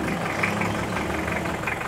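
A noisy Mitsubishi 4M40 diesel engine idling with an abnormal clatter, steady rough low rumble, close and continuous with no talk.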